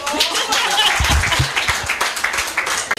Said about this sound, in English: You can clap for me.